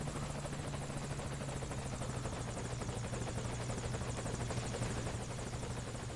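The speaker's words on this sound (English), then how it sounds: "Usually you get the helicopters after you get the hostages." A helicopter arrives in Metal Gear Solid V: Ground Zeroes, its rotor chopping in a steady, fast pulsing thrum that stays constant and moderately faint throughout, with no talk.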